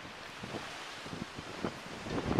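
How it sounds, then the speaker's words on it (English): Wind from Hurricane Irene buffets the microphone at a harbor with a low rumbling roar, and the gusts build louder toward the end. "Well, it's windy"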